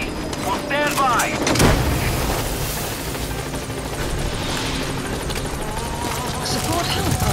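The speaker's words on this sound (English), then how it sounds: "Support helicopter has arrived." A support helicopter arriving in Metal Gear Solid V, its rotor drone running steadily through the scene, overlaid with radio chatter, game effects and a sudden thump early on.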